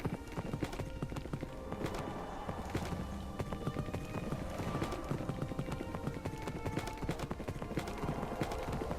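Horse hooves clip-clop steadily across a Minecraft landscape in a quick, continuous rhythm. The game sounds stay loud and busy from start to end.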